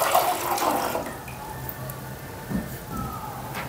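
Water is poured steadily into a cooking pot, about three pav of it, as the first step of making homemade sharbat, with a continuous splashing stream close by.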